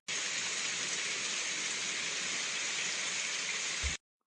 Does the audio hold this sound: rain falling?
yes